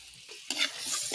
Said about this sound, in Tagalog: Gisa muna natin ating paminta.